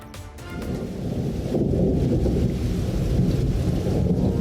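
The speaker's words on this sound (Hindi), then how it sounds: "गुज़िश्ता रात शदीद हब्स के बाद आंधी के साथ मानसून की पहली तेज बारिश ने जल थल एक कर दिया" Heavy monsoon rain pours during a storm in Lahore as thunder rumbles, starting with a sharp crackle and then growing into a loud, sustained roar of rain and wind.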